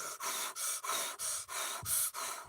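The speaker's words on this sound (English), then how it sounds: "when you're angry, the angrier you get, you breathe a certain way" A man shows how an angry person breathes, drawing heavy, forceful breaths close to the microphone. About eight harsh, even breaths follow one another in a steady rhythm, with no speech.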